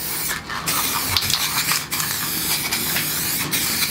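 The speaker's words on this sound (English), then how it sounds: "This is actually transparent spray can." A steady, close hiss of clear lacquer spraying from an aerosol can, running continuously with a few brief pauses and bursts.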